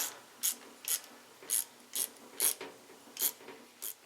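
Close, crisp clicks of a ratchet wrench tightening bolts on a Harley Big Twin starter, sounding in a steady series of about nine short turns, with no talk.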